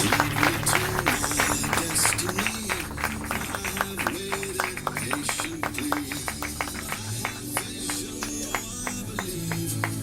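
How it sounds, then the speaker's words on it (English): Sustained applause at a dinner at Silver Springs honouring the U17 team after their CECAFA victory, many hands clapping steadily throughout with crowd voices mixed in. "Big round of applause, please."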